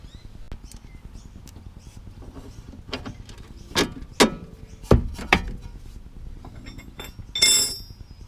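Metal clinks and taps from handling an Allen key while fitting a Whiteline sway bar link on a Mercedes C63, a few sharp, close knocks scattered over faint background noise.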